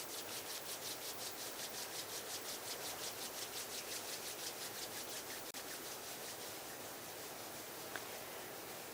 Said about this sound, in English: Gently bring the palms together at chest level and rub them gently against each other.